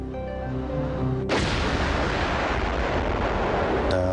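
A powerful explosion at a federal building erupts suddenly after a musical tone, followed by a sustained, dense roaring rumble that fills the scene, with a second sharp crack near the end.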